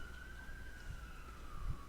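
Ambulance siren wailing outside on a snowy day, faint and distant with a slowly falling tone, alongside a couple of soft low thumps nearby.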